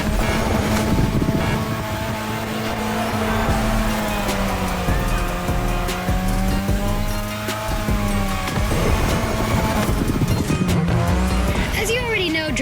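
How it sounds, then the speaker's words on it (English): Cars drift around a track in The Crew Motorfest video game, with loud engines revving and sliding pitch and sustained tire squeal throughout, under constant in-game racing noise, while a voice talks over it. "welcome to my playground, the drift track"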